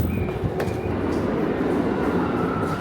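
A New York City subway train rumbles steadily with a dense, roaring clatter, close and loud, with a faint metallic squeal and a brief click, while it floods and no one speaks.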